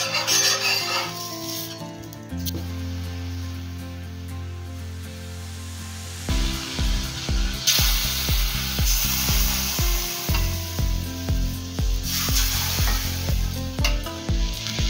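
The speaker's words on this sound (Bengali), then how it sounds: "টোস্টটাকে ততক্ষণ অবধি ভেজে নিতে হবে যতক্ষণ না পর্যন্ত এর থেকে দুধটা সোক করে নিচ্ছে" French toast fries in a pan as milk is added bit by bit, giving a continuous sizzle with intermittent stirring and scraping sounds that shift in loudness.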